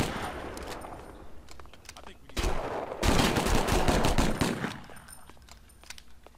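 Gunfire in the video game 25 to Life, with scattered shots that build into a dense, loud stretch of rapid automatic fire and then trail off into sporadic bangs, heard over game background noise.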